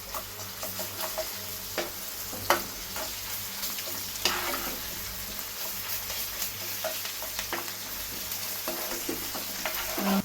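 Onions with ginger-garlic paste, turmeric and salt sauté in a pan for fish pulusu, a soft continuous sizzle broken by scraping stirs and occasional spoon knocks.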